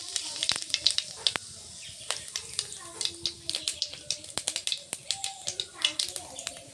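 Whole bay leaf and cumin seeds sizzle and crackle in hot oil, irregular popping snaps over a soft hiss, with a voice talking quietly over the frying.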